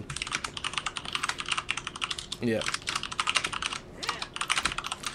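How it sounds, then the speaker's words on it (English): Rapid, continuous clacking of a mechanical keyboard with Cherry MX Red switches, fast bursts of keystrokes close up with a brief pause, no voices. "Clickety clack of Cherry MX Red switches."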